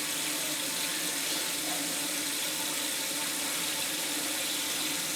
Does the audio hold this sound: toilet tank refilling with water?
yes